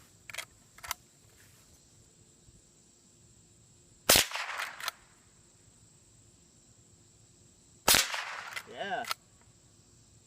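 A Marlin Golden 39A lever-action .22 rifle fires CCI Mini-Mag hollow points outdoors: two loud, sharp cracks several seconds apart, each followed by a lever-action clack. Faint earlier clicks and crickets sit in the quiet background, and a voice says a brief word.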